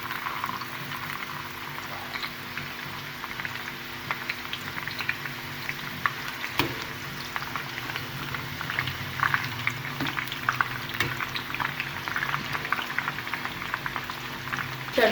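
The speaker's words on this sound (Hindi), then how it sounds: "अब हम सेम ऑयल में तड़का तैयार करेंगे। तो यहाँ पे मैंने 4 हरी मिर्चें ली हैं, इसको यहाँ पे डालूंगी और 1/4 कप प्याज ली है।" Tadka of four green chilies and a quarter cup of onion sizzling in oil for kadhi pakora, a steady, fine crackling fry that goes on without a break at low to moderate level, with no talking.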